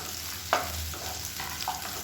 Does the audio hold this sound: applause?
no